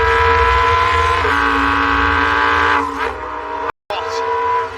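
Ferrari 488 Pitstop-style STO supercar engine revving hard, a loud sustained high-pitched howl with strong harmonics that rises and falls, briefly cutting out near the end before resuming.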